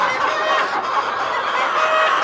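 Sonali chickens cluck and chatter continuously at close range, a busy flock of murmuring fowl with no one talking.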